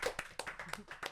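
Studio audience applause greeting the end of a TV show segment, a short burst of claps, moderately faint, with a host's voice over it.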